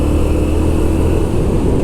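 A 2023 Moto Guzzi V7 Stone Special Edition motorcycle with a new exhaust rumbles steadily and loudly up close, a continuous low engine drone with no breaks.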